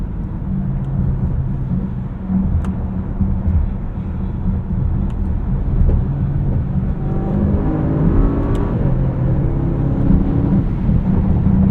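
Steady low road and engine drone from inside a 2024 AMG GLE 63 S Coupe cruising on the highway, a fairly quiet cabin hum with tire rumble, continuous throughout with no talking.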